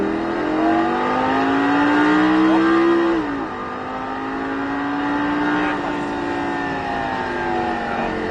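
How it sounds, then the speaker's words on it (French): A Lamborghini Gallardo accelerates hard on a track, engine note rising loudly, dropping briefly at a gear change around the middle, then climbing again in a strong close roar without talk. "On reprend les gaz et on réaccélère"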